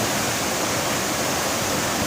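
A waterfall below Mount Salak near Bogor roars as a steady, loud wash of broadband water noise, unbroken and with no voices over it.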